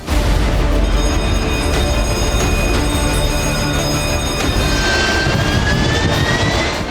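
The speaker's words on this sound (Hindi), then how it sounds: "अगले दिन सी हॉक लड़ाकू विमानों ने आईएनएस विक्रांत से उड़ान भरी" Sea Hawk fighter aircraft taking off from the carrier INS Vikrant: a loud, steady jet engine roar fills the whole stretch, with a rising whine sweeping upward near the end and no voices.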